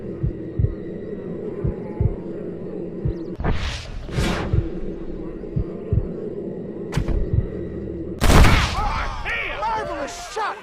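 Gunfire in the Western video game Red Dead Redemption, a few sharp loud shots over a rhythmic low thumping music bed, with a burst of game noise near the end.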